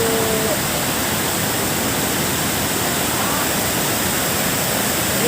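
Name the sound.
river water flowing at Tala River Park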